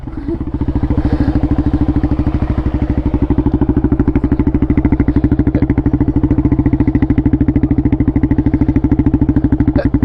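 A quad's engine revving hard while stuck off-road: a loud, close, throbbing motor with rapid regular pulsing that holds steady throughout, with a faint clatter on top.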